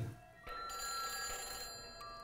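Telephone ringing inside a horror video game set on a farm, a bright electronic trill that rings continuously at moderate volume for about two seconds with no talking.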